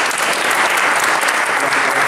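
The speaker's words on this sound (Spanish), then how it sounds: "un fuerte aplauso para Luis Javier Martínez." Sustained, dense applause fills the hall at a photography awards ceremony of the Vera Cruz brotherhood in Calahorra, La Rioja, steady and loud from start to finish with no pauses.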